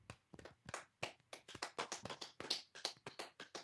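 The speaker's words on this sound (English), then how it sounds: "let's give ourselves a little golf clap here" A small group of panelists gives a soft golf clap, light taps of several hands in a quick, uneven patter that stays quiet and close.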